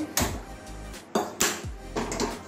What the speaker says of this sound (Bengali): কড়াই বসিয়ে দিয়েছি।